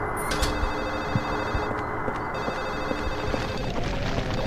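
Telephone ringing in the Silent Hill 4 horror game, a continuous bright electronic trill sustained over a dense, droning ambient bed, no speech.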